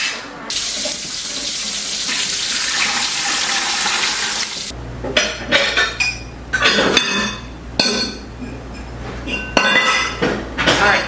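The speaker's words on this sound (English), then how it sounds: "I got 4 jars out" Glass canning jars taken out and handled at a sink before pressure canning; running tap water rushes at first, then sharp glassy clinks and knocks come in bursts at close range.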